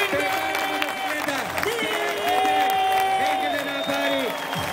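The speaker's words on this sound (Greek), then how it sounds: "Χειροκρότημα δυνατό για τον Κλίντον Μουρ." A crowd at a Red Bull X-Fighters freestyle motocross event in Athens applauds rider Clinton Moore, with steady clapping and cheering under a loud announcer who talks throughout, while a motorbike engine whines up and down in the background.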